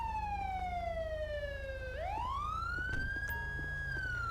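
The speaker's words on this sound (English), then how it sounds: "turn off my lights and sirens" A Grand Theft Auto V police car siren wails close by, its tone sweeping down slowly, then rising again over a low engine hum.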